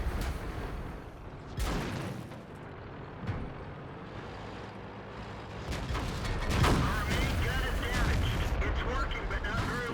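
Distant and mid-range tank cannon fire in the World of Tanks video game, with booming shots at about 1.5 s and 6.5 s over a constant rumbling battle bed and no clear speech.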